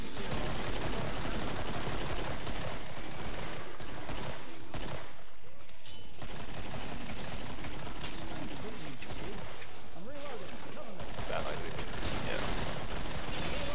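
Near-constant Killing Floor gunfire in West London, dense rapid shots packed into a loud, continuous wall of sound with brief thinner moments.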